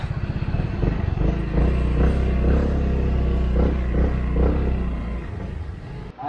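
A motorcycle carrying riders rumbles along at a steady low throttle, the engine close and continuous with some clatter, fading slightly near the end.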